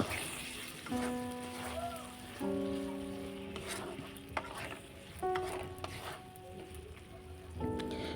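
Vegetables tossed with soy sauce and chili flakes in a pan for omelette chili, a quiet sizzle with occasional stirring clicks, interrupted by sustained tonal hums.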